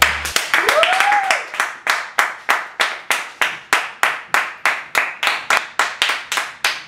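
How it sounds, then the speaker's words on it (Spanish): A studio audience on a talk show applauds guest Nat Campos with rhythmic unison clapping, sharp regular claps about three per second, following a brief rising whistle at the start. "vamos a darle un fuerte aplauso a la señorita Nat Campos"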